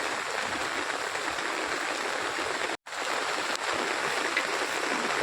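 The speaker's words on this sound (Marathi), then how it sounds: "बघा किती पाणी आले नदीला" A flooded river in monsoon rain rushing past a riverside temple whose steps are submerged, a steady broadband roar of water throughout with one brief dropout midway.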